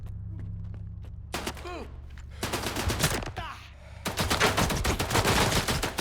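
Gunfire in a first-person shooter game streamed live, with bursts of shots and impacts over a steady low hum, while someone talks between and over the shots.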